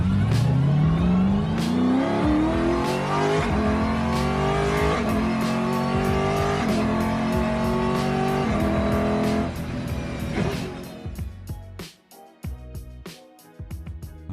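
Lotus Exige sports car fitted with a swapped Mercedes SLS V8 engine revs hard, its loud, rising engine note climbing repeatedly through gears before the sound drops away into quieter, choppy engine noise at the end.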